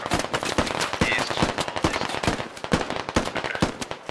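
Rapid, irregular gunfire crackles throughout a firefight in the military shooter game Squad, sharp repeated shots and bursts at varying distances with a constant background rumble and no talking.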